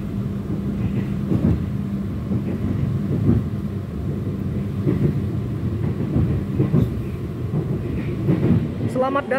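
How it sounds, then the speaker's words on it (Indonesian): Sawung Galih passenger train pulling into Purwokerto station, heard from aboard as a low rumble with irregular clanks and knocks of the cars and faint background voices. "Saat ini perjalanan kereta api Sawung Galih sudah tiba di stasiun Purwokerto."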